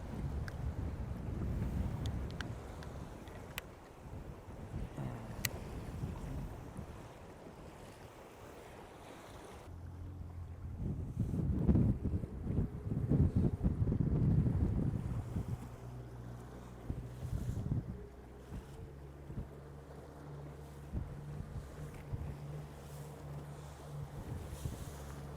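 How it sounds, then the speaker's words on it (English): Wind gusting over a small fishing boat on rough water, a continuous roaring rush with buffeting on the microphone and waves sloshing against the hull, louder in the middle stretch. "It's a shame about the wind"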